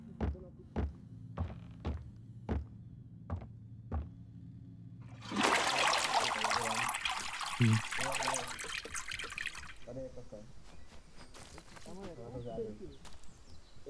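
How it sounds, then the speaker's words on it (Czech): A toilet in a Gnomes video game flushes with a loud rushing surge of water that lasts a few seconds, then trickles off. Rhythmic thumps come before it, and voices talk and shout afterward. "On jde spláchnout."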